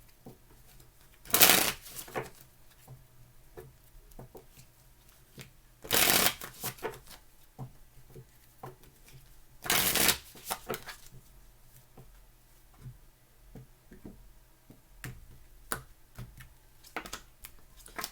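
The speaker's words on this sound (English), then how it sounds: "3 more shuffles." Three quick riffle shuffles of a tarot deck, each a brief crisp flutter, spaced a few seconds apart amid faint handling noises.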